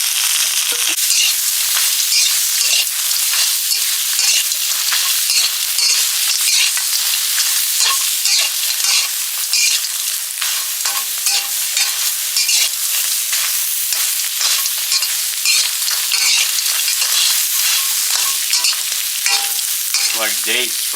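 Beetles frying in a little oil give a loud, continuous dense sizzle with constant crackling and popping, close and steady throughout with no talking.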